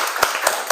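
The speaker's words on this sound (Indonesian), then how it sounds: "Tepuk tangan semua." A classroom of students clapping their hands, a short burst of sharp claps with a few distinct louder strikes, moderately near and fairly quiet.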